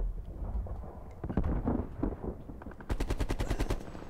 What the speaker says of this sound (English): Just wanted to make sure I shot one single bullet so everyone in the map knows where I am